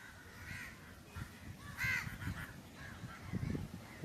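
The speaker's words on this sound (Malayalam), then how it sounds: "മലയാളത്തിൽ കാക്ക ധാരാളം ഇരിപ്പുണ്ട്" Crows caw repeatedly at moderate distance near an auto-rickshaw stand in Kovalam, Kerala, harsh calls rising over a low rumble of traffic and street noise.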